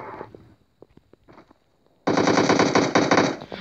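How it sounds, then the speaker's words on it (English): Burst of rapid automatic machine gun fire in the battle royale game PUBG, loud and continuous for about a second and a half after some brief quiet scattered sounds. "Why are you shooting at me?"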